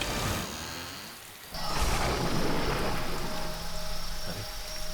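Heavy rain pours down in a steady hiss with a low rumble of thunder, briefly dipping before surging back louder.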